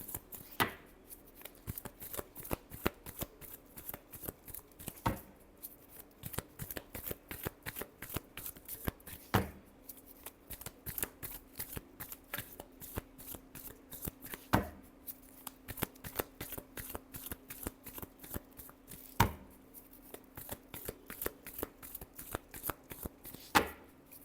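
Tarot cards being shuffled in a tarot reading, a long run of fast, crisp riffling flutters and slaps close by, repeating steadily with a few sharper card taps, no talk.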